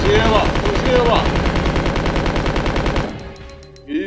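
Rapid sustained automatic gunfire from Resident Evil 2, loud and dense for about three seconds, then stopping abruptly as a brief voice sounds underneath.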